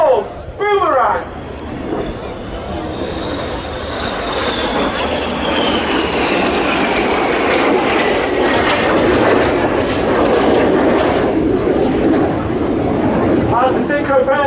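Red Arrows jets roar low over a seaside air show display line while flying the Boomerang manoeuvre, a loud sustained broadband rush with a high whine that slowly falls in pitch as the aircraft pass, and a brief burst of crowd sound near the start.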